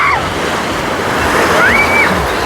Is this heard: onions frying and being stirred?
no